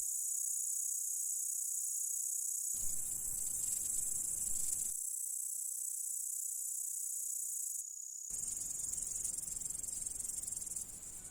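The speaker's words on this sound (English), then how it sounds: "our bush cricket has made it." A bush cricket at a forest edge chirps in a steady, high continuous buzz. Its song cuts in and out in long blocks of several seconds, loud and close.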